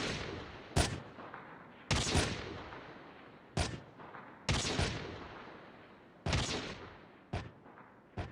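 Call of Duty: Mobile LOCUS and DL Q33 sniper rifles fire unsuppressed, giving seven sharp single shots spaced irregularly over several seconds, each a loud crack with a decaying echo tail.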